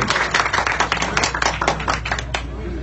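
Crowd applause at an outdoor political rally, steady dense clapping with a low background hum throughout, no single voice standing out.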